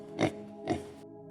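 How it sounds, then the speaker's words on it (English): Two short, snorting pig oinks a half-second apart, fairly close and faint over a quiet background hum, with no other sounds around them. "then I'd start hearing a pig"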